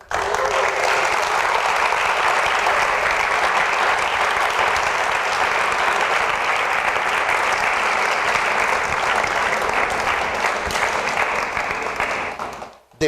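A church congregation claps loudly and steadily through a long sustained round of applause, holding constant before fading out sharply at the very end.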